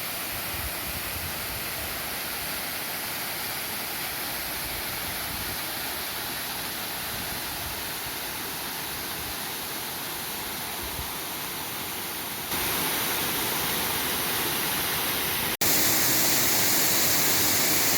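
Kalamankuthu waterfall near Munnar, a continuous dense roar of falling water that is loud and steady throughout and grows brighter near the end, with no voices.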